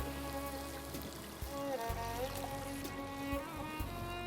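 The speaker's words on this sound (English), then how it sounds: "since this is a gravy dish, I'll add around 2 cups of water to this" About two cups of water pour steadily into a pan of mirchi ka salan, a chili pepper gravy, giving a continuous splashing trickle close by with no talk over it.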